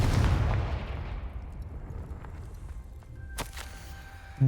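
Spell impacts in the video game Hogwarts Legacy, a disarming spell and a fiery blasting spell, land as a heavy booming burst that rumbles and fades, then a sharp crack near the end.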